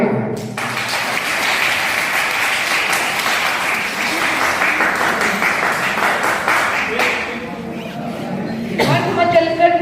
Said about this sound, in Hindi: लेकिन आपको तालियों से बोलना है।